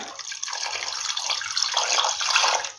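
Water is poured into a pot of stuffed peppers with meatballs, a steady close splashing gush lasting a few seconds and swelling slightly toward the end, heard alone.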